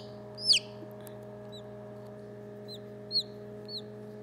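A chick hatching from a shrink-wrapped egg gives several high, thin peeps at irregular intervals, close but fairly soft over a steady low hum.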